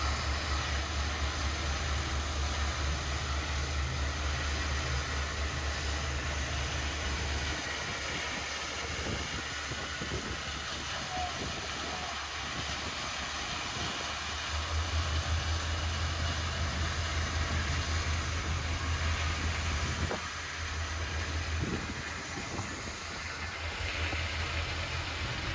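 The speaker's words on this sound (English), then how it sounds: "The ballast is being dropped from Herzog solar hoppers." A steady, rushing rumble of ballast pouring from Herzog hopper cars on a Florida East Coast Railway work train, with a low mechanical drone underneath and a few brief knocks.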